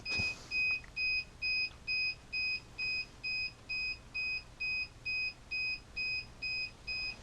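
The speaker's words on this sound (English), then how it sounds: "And we've got an alarm." A duck egg incubator just switched on sounds a repeating electronic alarm: steady pairs of high, pure beeps pulse in an even rhythm about twice a second, clear and close, with no voices.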